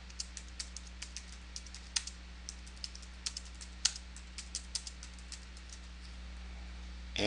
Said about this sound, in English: Let me retype it in.